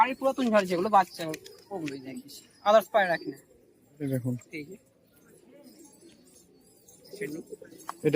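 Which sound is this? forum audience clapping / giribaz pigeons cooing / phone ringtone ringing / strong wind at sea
giribaz pigeons cooing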